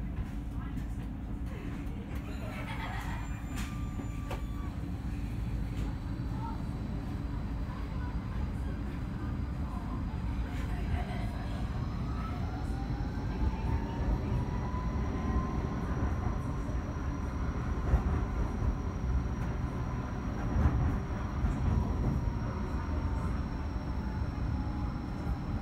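A Gold Coast G:link light rail tram pulls away and runs along the line, a steady low rumble of wheels and motors with rising electric whine tones, continuous and close from the cab.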